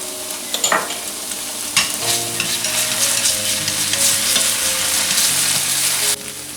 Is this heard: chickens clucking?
no